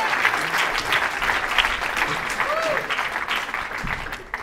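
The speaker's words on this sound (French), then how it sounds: "je vous demande d'applaudir bien fort" Audience at a village variety show in a hall applauding loudly, a steady wash of clapping from the crowd with voices and chatter mixed in.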